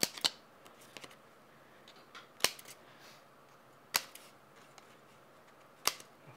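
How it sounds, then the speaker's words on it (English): Scissors snip through paper die-cut pieces for an inlaid roses card: four sharp, isolated cuts spaced a second or two apart, close and clear against a quiet room. "just with my scissors, I'm going to nip through"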